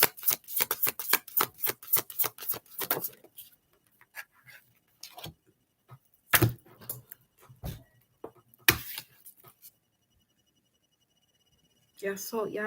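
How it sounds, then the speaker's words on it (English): Tarot cards shuffled close up: a run of crisp rapid riffling clicks, then sparse single snaps and taps with gaps of quiet, and a voice briefly at the end. "you heard me shuffling these cards"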